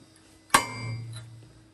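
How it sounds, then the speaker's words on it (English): A single sharp metallic hammer strike on a transfer punch, ringing briefly with a lingering low hum afterward; close and isolated. "Now I'm going to come in here with a transfer punch and just do one hole."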